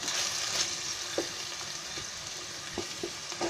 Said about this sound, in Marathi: आता त्याच्यामध्ये आहे ना हे जे खसखस आणि वाटलंय ना ते टाकते.